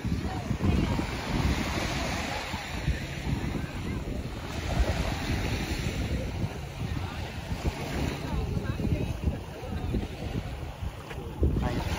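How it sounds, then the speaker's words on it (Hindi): Gentle sea waves lapping in a narrow channel with steady wind buffeting the microphone, a continuous wash of water and rushing air heard from a boat, with no clear speech over it. "यहाँ वेव्स कम लग रही हैं, ये नैरो चैनल है"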